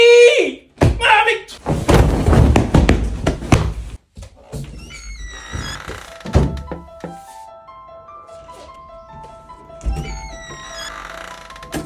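A household door bangs shut with a hard thunk at the start, followed by shouting voices and further thuds and clatter, with loud talk and music-like tones running underneath.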